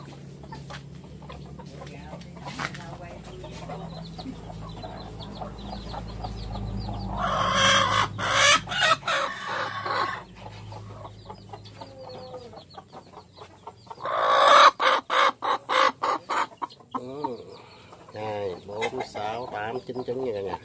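Farmyard chickens cluck and a rooster crows amid a rural Mekong Delta cooking scene, with two loud bursts of fowl calls standing out over steady background noise and some faint talk.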